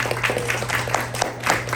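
A comedy-showcase crowd applauds briefly, a short burst of many hands clapping with distinct individual claps standing out over a low steady hum.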